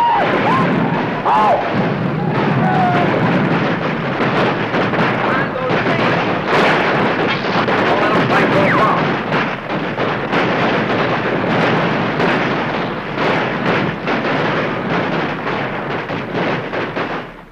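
Battle reenactment with gunfire and artillery booms from a Gettysburg documentary: dense, continuous rumbling volleys and blasts, loud and close, with shouting voices mixed into the chaotic din.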